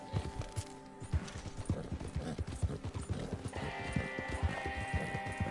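Horse hooves clip-clop in steady rhythm across the Red Dead Redemption video game, loud and close, with faint musical tones and a brighter ambient layer joining partway through.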